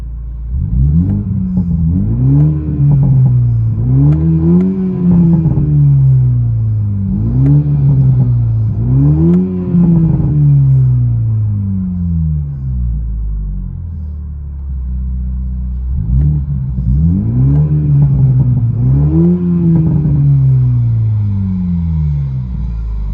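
A Toyota Supra GR with a 3.0L inline-six and aftermarket exhaust revs up loudly and close several times, each rev rising and falling in a deep growl, with a short pause before a final burst of revs.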